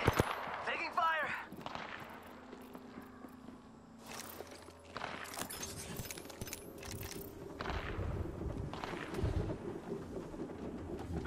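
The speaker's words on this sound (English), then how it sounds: "Taking fire!" Gunfire in a video game, with bursts of loud shots and booms scattered through a busy battle mix while players talk over it.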